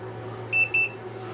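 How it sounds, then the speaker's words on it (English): Two short electronic beeps in quick succession from a WeCreat Vision laser engraver powering up, over a steady low hum, fairly close and clear. "And it beeps"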